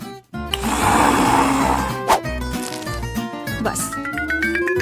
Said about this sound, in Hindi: इन सबको बस एक ब्लेंडर में अच्छी तरह से फेंटने की जरूरत है